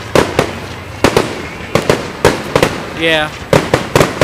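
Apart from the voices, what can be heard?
fireworks exploding at a 4th of July show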